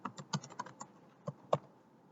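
Quick bursts of typing on a computer keyboard, a short run of close, crisp key clicks followed by a couple of isolated presses, quiet and alone.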